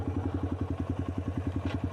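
A motorcycle riding the winding Tail of the Dragon road drops into a lower gear, its engine thumping in a fast, even pulse of close, throbbing firing beats with no pause.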